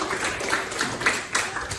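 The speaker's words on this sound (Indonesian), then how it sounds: "Oke, tepuk tangan." Students in a classroom clap their hands together in a quick, faint, rhythmic burst of a handful of claps.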